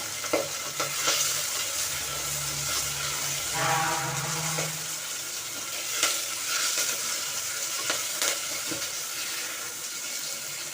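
Medicinal sangu leaves sautéing in oil in a pan for a kuzhambu, with a moderate sizzle, stirring scrapes and a few sharp spoon knocks against the pan.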